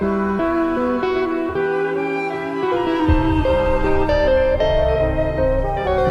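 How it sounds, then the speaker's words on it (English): Layered instrumental music with sustained orchestral tones and melodic guitar lines weaving through, playing steadily at moderate loudness, deeper bass entering midway. "It's like orchestral, arty stuff with some guitar like integrated into it."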